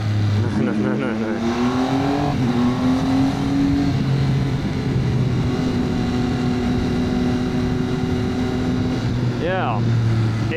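A motorbike rides through Chiang Mai's Old City in Thailand, its engine droning steadily with shifting pitch as it accelerates along freshly repaved tarmac, with traffic and road noise around and a voice talking over it.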